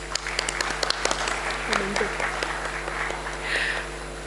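An audience applauds at a college event day, a loose spatter of claps with sharper individual hits early on, moderately distant, with some voices and faint background hum underneath.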